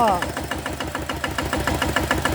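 A small Kubota ET single-cylinder diesel fitted with an RT injector, rebuilt with new piston and rings but with a leaking valve, runs with a fast, even knocking chug close by while someone talks over it.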